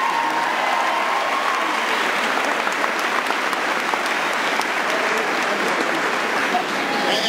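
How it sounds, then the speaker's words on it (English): A large crowd at a community college event claps in a steady, loud, continuous roar of applause lasting throughout, with no break or fade. "Give Bill Grace a big round of applause."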